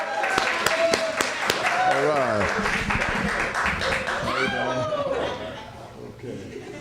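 An audience at a 2005 poetry reading in a branch library applauds a poet, sharp scattered claps and light laughter building then fading out, with a voice speaking briefly among them.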